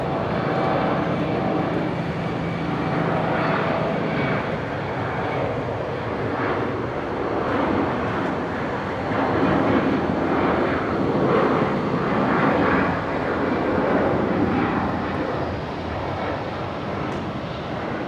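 An aircraft engine roars steadily at Brisbane International Airport near runway 01 right, a broad, continuous rumble that swells slightly midway and holds for the whole stretch with no voices.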